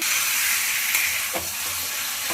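Potato and cauliflower pieces fry with spices in a hot pan, giving a loud, continuous sizzle with occasional scraping stir sounds and no talking.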